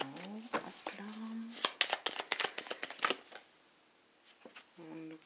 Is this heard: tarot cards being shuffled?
yes